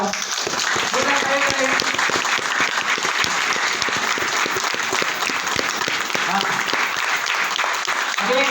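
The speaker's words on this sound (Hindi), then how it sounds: "गुप्ता जी एक बार जोरदार तालियां बजाओ आप लोग।" A hotel seminar audience bursts into strong, sustained applause, loud and continuous, with crowd noise and faint voices mixed into the clapping throughout.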